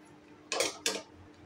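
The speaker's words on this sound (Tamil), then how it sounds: "அப்படியே நம்ம மெதுவாக கிளறி கொடுக்கணும்." A spoon scrapes twice through kadai biryani in a pan, turning masala rice over the white rice beneath. Two short, close scraping and clinking strokes stand out from a quiet background, with no talking.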